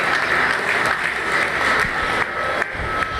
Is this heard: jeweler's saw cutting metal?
no